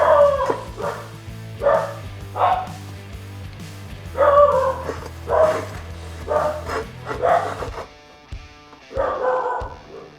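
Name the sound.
dog barking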